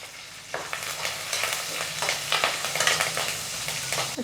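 Green chillies sauté in a pan for sodhi kulambu, a continuous frying sizzle with scraping stirs and small crackles, close and fairly loud throughout.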